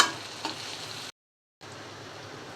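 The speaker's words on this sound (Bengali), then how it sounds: "পেঁয়াজটা ভেজে নিচ্ছি" Onion frying in a pan gives a steady, soft sizzle and crackle, briefly cut to silence midway before the hiss resumes, close and fairly quiet with no talk.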